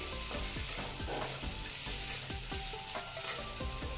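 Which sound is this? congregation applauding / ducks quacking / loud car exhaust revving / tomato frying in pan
tomato frying in pan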